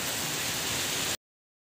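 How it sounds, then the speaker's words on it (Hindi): Heavy rain pours down outside a home, a dense, loud, steady hiss lasting about a second before cutting off abruptly into silence. "आते ही हाल देखिए कितनी बारिश शुरू हो गई है"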